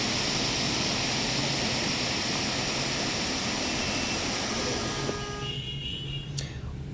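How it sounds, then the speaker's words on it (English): Steady broadband rushing of a waterfall near Tena, Ecuador fills the scene, loud and continuous, easing slightly near the end with a brief knock. "Here's a waterfall I'll let you enjoy."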